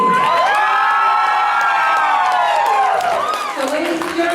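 Wedding reception guests erupting in loud, sustained cheering, whooping and shouting, with applause mixed into the dense crowd roar from start to finish.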